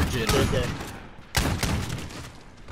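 Shotgun blasts in Call of Duty: Modern Warfare, two heavy booming shots about a second apart with trailing rumble, set amid loud game noise.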